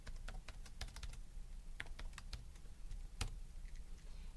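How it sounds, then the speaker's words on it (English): Fingers tap a calculator keypad in quick, irregular bursts of small plastic clicks, close and fairly quiet, with no one talking. "this one you just can type in your calculator"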